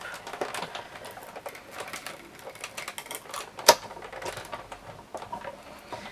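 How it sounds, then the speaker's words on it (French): A die-cutting machine presses a sandwich of foil, double-sided adhesive and a metal die as it runs through the rollers. The crank sounds as a steady patter of soft clicking and rattling, with one sharp snap partway through. "je place en sandwich et je le passe dans la machine de découpe"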